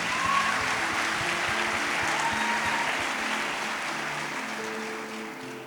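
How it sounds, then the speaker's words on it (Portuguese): A church congregation at a Brazilian Pentecostal congress gives sustained applause to the worship band, dense and steady throughout with faint sustained instrument tones underneath, easing slightly toward the end. "Aplauda para o Senhor essa banda maravilhosa aqui."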